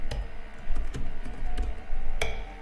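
Short bursts of typing on a computer keyboard while entering a name into a sign-up form, a few spaced key presses and clicks over a low background hum with no speech.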